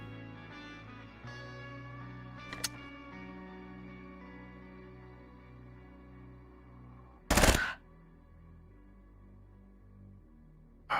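Gunfire from the video game Quasimorph: one sharp shot, then a dense loud burst of automatic fire over a droning game soundtrack, with another shot cut off at the end.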